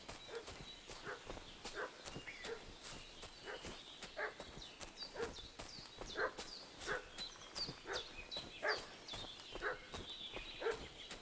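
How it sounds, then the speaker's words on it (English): Dog barking in the medieval role-playing game Kingdom Come Deliverance II, a run of repeated barks at moderate distance with a steady rhythm over a busy outdoor background that may include hoofbeats or footsteps. "What's that dog making such a fuss about?"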